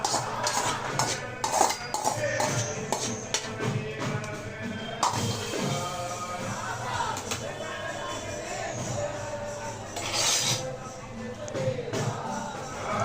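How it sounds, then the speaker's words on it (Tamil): Vada batter being stirred with a metal spoon in a bowl, giving repeated scraping clinks and knocks of metal on the dish at close range, irregular and fairly quiet throughout. "கரண்டி வச்சு மிக்ஸ் பண்ணிக்கோங்க, சுடும்"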